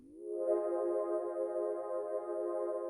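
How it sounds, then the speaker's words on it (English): A buzzy, harmonically rich synth pad slides upward in pitch, then holds a steady sustained chord for a few seconds. "It's a super nice and buzzy glide pad that just kind of glides up to the pitch."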